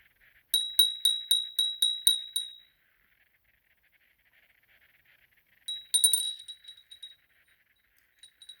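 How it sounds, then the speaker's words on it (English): A Cumbrian pottery bell rings with seven quick, bright, even strikes that decay into a short ringing tail, followed after a quiet pause by a looser jingle of clinks that fades out. "Let's ring the Cumbrian bell"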